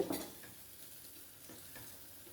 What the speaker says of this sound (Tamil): நம்ம கடைஞ்சி வச்சுருந்த கீரையில் இதை சேர்த்து கலந்து விட்டுக்கலாம்